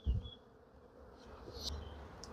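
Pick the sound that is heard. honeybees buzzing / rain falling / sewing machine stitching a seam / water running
honeybees buzzing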